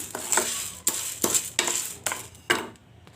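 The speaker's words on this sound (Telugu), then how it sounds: "ముందుగా జొన్నలను ఒక కప్పు తీసుకోవాలి దీన్ని రోస్ట్గా వేపుకోవాలి" Sorghum grains dry-roasting in a pan while a spoon stirs them, a series of scraping, rattling sweeps about every half second as the grains shift against the metal, close and clear with no talk.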